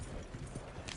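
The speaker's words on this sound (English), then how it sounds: "Horses won't go this fast for long." Horse hooves pound at a fast gallop in the Western video game Red Dead Redemption, a brief and faint burst of rhythmic clip-clop.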